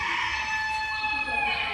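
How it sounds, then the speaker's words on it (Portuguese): A rooster crows once in a drawn-out call that rises and then falls away, close and fairly loud, over a steady background hum with no talking. "Ó, o galo do Juarez aí, ó"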